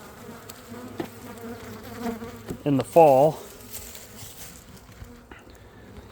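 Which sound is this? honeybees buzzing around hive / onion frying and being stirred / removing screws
honeybees buzzing around hive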